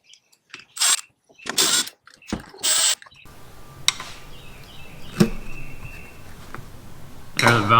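Ratchet clicking as 10mm valve cover bolts are loosened on a Honda J-series 3.5 V6, several short bursts of close ratcheting up front, then quieter shop ambience with a few sharp metallic clinks.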